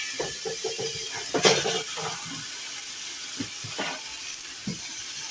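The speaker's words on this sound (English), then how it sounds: "we're going to put our ground beef and beef cubes in our pot and get them browned" Ground beef and beef cubes browning in olive oil in a pot, a steady soft sizzle and hiss with a few louder spits and crackles.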